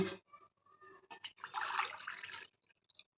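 Water poured into a cooking pot for rice for Karnataka-style bisi bele bath, a short splashing pour with drips, heard close and moderately faint before trailing off.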